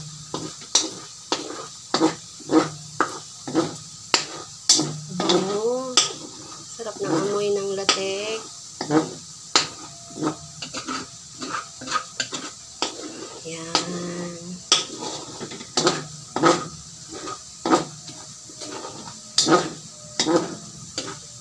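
Coconut latik browning in a pan for maja blanca topping, stirred with a utensil that scrapes and clicks against the pan in a steady rhythm over a soft sizzle, with a voice speaking in between.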